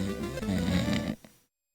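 A person imitating a loud, exaggerated snore close to the mic, one long rough snorting breath of about a second that cuts off abruptly into silence.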